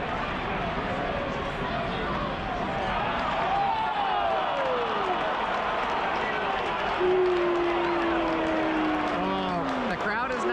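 A baseball stadium crowd unhappy with an umpire's ball call keeps up a continuous, loud roar of voices, with a person talking over it.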